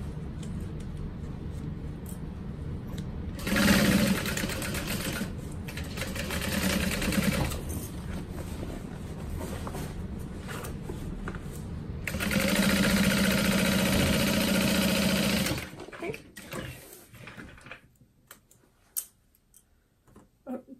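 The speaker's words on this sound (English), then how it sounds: "I do just 2 little back stitches over those connectors" A home sewing machine makes two short back-stitch bursts over bag strap connectors while sewing a crossbody bag. Each run is a steady, close mechanical whir and clatter, followed by quiet handling noises.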